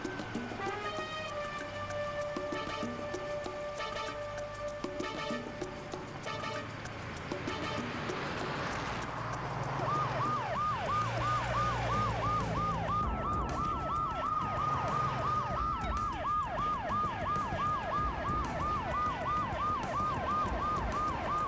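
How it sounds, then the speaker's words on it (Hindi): A faulty, jammed siren wails, cycling up and down rapidly and loudly, following a stretch of steady musical tones and road traffic noise. "सायरन खराब है क्या?"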